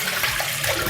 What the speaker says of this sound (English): The water in which the cassava root has soaked is now really milky,